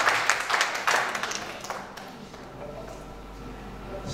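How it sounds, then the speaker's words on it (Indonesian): An audience claps for Pak Muradi at a gathering, a short burst of scattered hand claps that fades out within about two seconds, leaving quiet room tone. "Jadi tepuk tangan saja untuk Pak Muradi"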